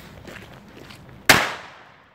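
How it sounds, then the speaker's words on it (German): A Funke Petarde firecracker goes off with a single loud, sharp bang after a quiet stretch, then rings out in a decaying echo. The blast is close and stands alone. "So, wir starten mit der Funke Petarde."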